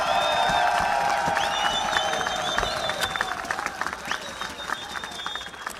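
A crowd at a rugby sevens tournament final in Oman claps and cheers for both teams, with scattered whoops over the applause, which thins toward the end.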